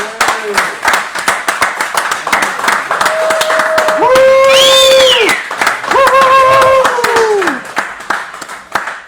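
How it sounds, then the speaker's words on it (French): Audience clapping at a live comedy show for Louis and Ben, the night's hosts, with whoops and sung or shouted voices rising over the claps throughout. "j'aimerais qu'on fasse un petit applaudissement pour Louis et Ben qui nous hébergent dans le fond."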